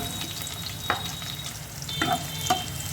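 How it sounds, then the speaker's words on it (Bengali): Chopped garlic fries in a small amount of oil for a white sauce pasta, crackling with a busy close sizzle and a few sharper spatters and stirring scrapes. "তারপরে রসুন কুচিটাকে অ্যাড করবো অয়েলে"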